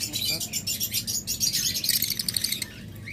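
Lovebirds in a breeder's aviary chirp continuously with dense, high twittering calls, many birds overlapping at moderate loudness, with a low background hum beneath.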